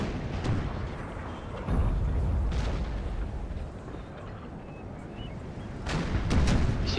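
Artillery fire during a Napoleon: Total War battle, UK against France, with heavy booming blasts at irregular intervals over a constant rumbling battlefield din, loud and sustained.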